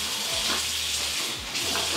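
Water runs from a tap in a steady, close, rushing hiss, with small fluctuations in the flow.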